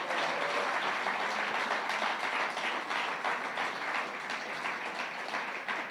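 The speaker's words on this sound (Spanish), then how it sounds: "Gracias por ese aplauso." A church congregation at a Sunday school service claps steadily in a dense, even wash of applause that holds at a moderate level throughout, with no pause.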